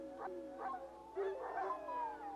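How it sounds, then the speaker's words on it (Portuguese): Recorded howls of a rival wolf pack played back on a farm, several rising and falling howls with yips overlapping at moderate distance, fairly faint against a steady background hiss. "tocar a gravação de uivos de lobos rivais todos os dias"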